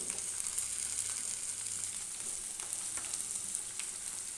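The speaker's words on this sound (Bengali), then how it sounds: "টমেটো কুচিটা দিয়ে দিলাম" Chopped tomato hits hot oil in a pan while cooking chana paneer, a steady close sizzle and frying hiss running throughout with no voices.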